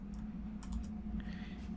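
Keys clack on a computer keyboard as the Ctrl-Shift-N shortcut is pressed, a few quick light taps over a low steady hum, close and fairly quiet.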